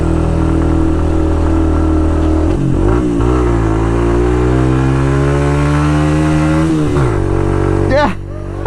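A Suzuki RV125 motorcycle engine labours up a steep hill with a hot-smelling clutch, loud and close, its steady revving tone dropping and rising again through gear changes before easing off at the end.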